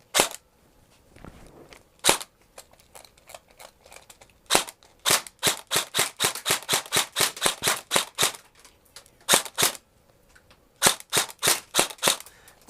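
An airsoft gun being test-fired after a hop-up repair, cracking off dozens of sharp, loud shots in uneven bursts with short pauses between groups, heard alone without talk.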